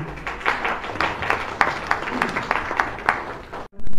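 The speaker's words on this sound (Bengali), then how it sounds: "নিশিতাকে বিশেষভাবে আমরা করতালি দিয়ে অভিনন্দন জানাই" Audience at a literary discussion event applauds in a burst of quick, uneven claps of moderate loudness, individual hand strikes standing out over a few seconds before cutting off abruptly.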